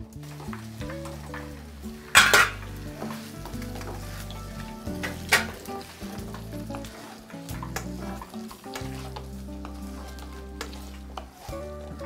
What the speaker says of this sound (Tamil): ஸோ அந்த சாஸ் வந்துட்டு எல்லா இடத்துலையும் வர மாதிரி மிக்ஸ் பண்ணிட்டீங்கன்னா கரெக்டாக